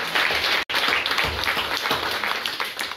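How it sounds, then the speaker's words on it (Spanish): A church congregation breaks into strong, sustained applause, with dense clapping filling the room apart from one brief dropout. "démosle un fuerte aplauso"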